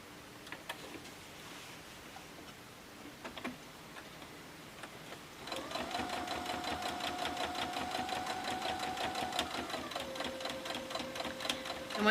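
A sewing machine stitches quilt binding in one steady, rhythmic run lasting several seconds, close by, after a few quiet clicks and handling noises.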